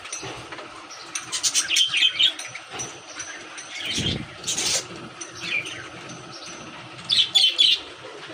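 Pet birds, including a parrot, chirp and squawk from a cage, with several bursts of calls and a brief flutter of wings at moderate distance, while faint speech hums in the background.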